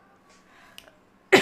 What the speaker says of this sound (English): Why am I getting cough now?